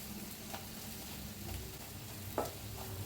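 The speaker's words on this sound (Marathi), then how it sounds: "छान मिक्स केलं खालीवर सगळं," Stuffed masala chillies are stirred in a hot pan, a steady close sizzle of frying with occasional soft scrapes from the spoon.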